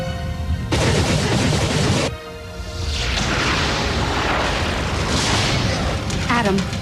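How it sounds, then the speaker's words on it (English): Suborbital saturation bombardment in the BattleTech video game: a continuous heavy barrage of booming blasts and rumbling detonations, loud and dense throughout, with a voice speaking briefly over it. "Commence suborbital saturation bombardment."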